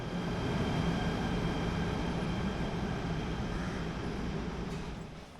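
A Chinese-built Class 92 KTM commuter train pulls away from a station platform with a steady, loud rolling rumble and a hum that gradually fades toward the end, with no talk.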